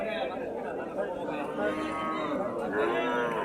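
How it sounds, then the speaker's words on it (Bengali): An Australian breed cow moos at a busy cattle market in Kasba, Brahmanbaria, its low call sounding close amid crowd chatter. "অস্ট্রাল গাভী"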